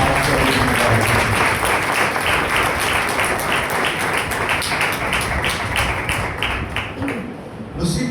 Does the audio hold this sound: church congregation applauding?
yes